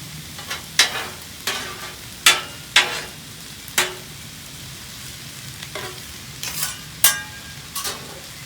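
Shrimp and chicken fried rice cooks on a 36-inch Blackstone griddle. A soft sizzle runs underneath while a spatula scrapes and clacks against the flat top in sharp, irregular strikes, about a dozen of them, close and fairly loud.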